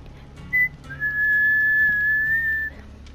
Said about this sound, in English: Why is it every time I whistle